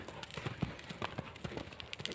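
Hooves of a young horse clop on the ground as it runs back and forth, a steady, uneven patter of light footfalls at moderate distance, with faint outdoor background.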